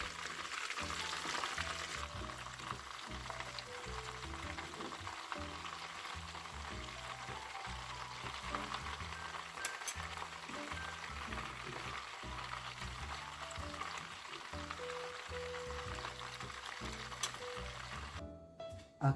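Mozzarella balls fry in hot oil in a pan, a dense continuous crackling sizzle that holds steady throughout with occasional small pops and a brief clatter near the end.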